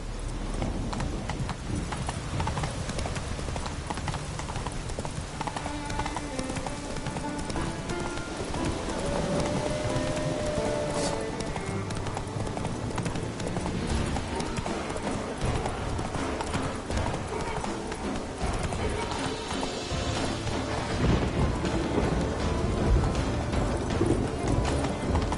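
Hooves of Roach, the horse in the video game The Witcher 3, clip-clop steadily in a rhythmic gait over a dense game soundscape of rain and ambient music, with a brief whinny partway through.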